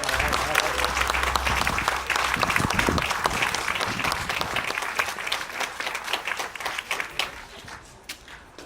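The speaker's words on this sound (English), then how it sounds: "One more time, round of applause." A crowd applauds after a public Independence Day reading in Malden, with thick, loud clapping at first that gradually thins and fades into scattered claps toward the end.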